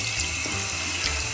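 Tap water runs in a steady, continuous rush while a small rescued kitten is washed under it, an even splashing stream close by with no speech.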